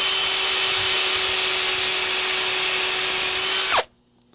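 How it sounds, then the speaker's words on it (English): A loud, steady electric drill fitted with a wire wheel whines continuously with a harsh high-pitched hum while cleaning a lathe tailstock, then cuts off abruptly near the end. "Literally the noisiest electric drill in the world."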